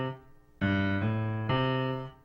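Simple piano left-hand bass pattern for When the Saints Go Marching In, starting on the C below middle C: two sustained low chords struck about a second apart, ringing clearly and alone with no talk.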